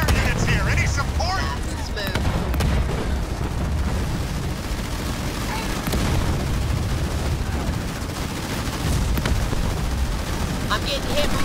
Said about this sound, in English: I'm getting hit from artillery up here.